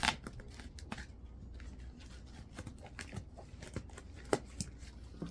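A mystery box being cut open, with sharp scattered snips and slicing scratches through cardboard or tape, close but fairly quiet, plus some rustling handling noises.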